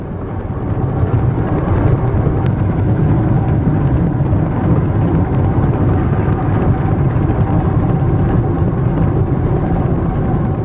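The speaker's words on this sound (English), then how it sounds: "Thomas Hill diesel hydraulic 219V of 1970 pulls a recently repainted Hawthorne Leslie 3575 of 1923 out of the shed." Thomas Hill diesel hydraulic locomotive 219V of 1970 hauling the repainted 1923 Hawthorn Leslie steam engine 3575 out of a shed, a steady, loud low engine rumble and drone holding throughout with no breaks.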